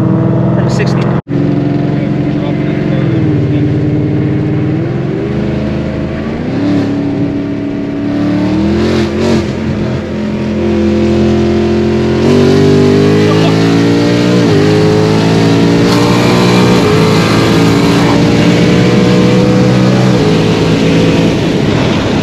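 A 1000 HP ESS supercharged Gen 3 Coyote Mustang pulls hard through the gears, its loud engine note climbing in pitch with each gear and briefly dropping at shifts, heard from inside the car with occasional voices over it.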